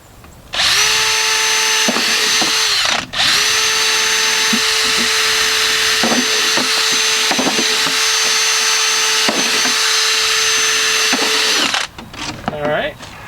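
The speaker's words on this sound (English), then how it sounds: "what I've got here is my drill with a drill bit" A power drill whines loudly and steadily in long runs, briefly stopping once, with faint bursts of a plastic milk jug being bored through for drainage holes; speech appears near the end.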